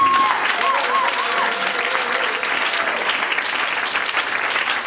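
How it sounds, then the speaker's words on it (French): A church congregation claps steadily, producing a dense, sustained round of applause with a few voices calling out briefly near the start. "Est-ce qu'on peut acclamer très fort?"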